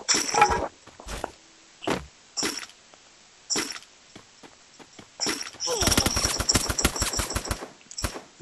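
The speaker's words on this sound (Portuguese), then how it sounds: "Acredito que pelo tiro foi Famas." Rifle gunfire from a FAMAS in a battle-royale tournament match: scattered single shots early, then a rapid dense burst of automatic fire, sharp and fairly near.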